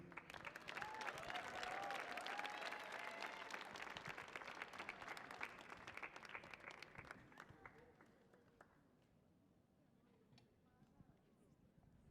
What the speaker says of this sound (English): Can y'all keep your claps going for this amazing, talented next artist coming up?